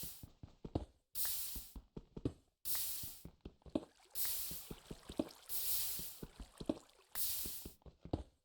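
Water being placed and flowing in Minecraft, a run of soft splashing and trickling bursts of broadband wash repeating every second or so, with small drip-like clicks between them, fairly quiet.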